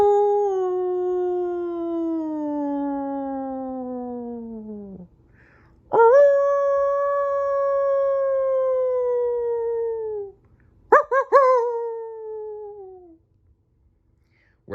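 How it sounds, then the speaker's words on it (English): Dogs howl in long, drawn-out wails that slide downward in pitch, three separate howls with pauses between, the last broken into short yelps, carrying through foggy air as if from a distance. "In the distance, they could hear dogs howling."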